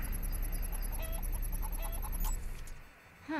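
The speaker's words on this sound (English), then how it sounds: "Just chickens." Chickens in the Defiance video game cluck and squawk in a few short calls over a steady ambient game soundscape, with high tonal tones running throughout.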